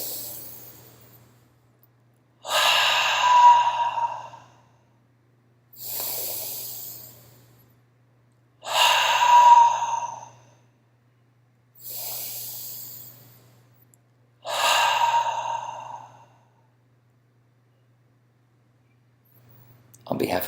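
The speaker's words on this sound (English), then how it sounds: "Inhale through the nose." A person breathes in deeply through the nose during a guided meditation, several long, audible breaths in a slow, even rhythm with quiet pauses between them.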